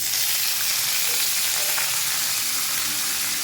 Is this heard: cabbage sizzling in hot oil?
yes